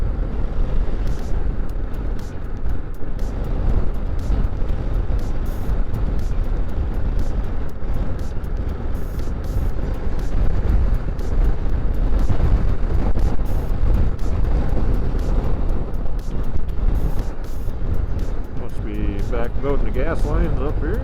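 Strong wind roars and buffets against a vehicle on a ride home, a continuous loud rumbling rush with gusty fluctuations and someone talking over it.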